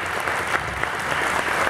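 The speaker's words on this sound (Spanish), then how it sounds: "entonces les pido un aplauso más" Audience applause at a live faerie-folk music concert, a short dense burst of clapping at even loudness, close and filling the space without voices on top.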